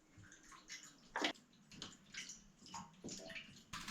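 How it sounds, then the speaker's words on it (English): Water poured into a newly fitted bathroom sink runs straight out through the drain below, a close, splashing gush that swells and recedes in uneven bursts with gurgling trickles between. "Just when I pour this in, it just pours straight out the bottom."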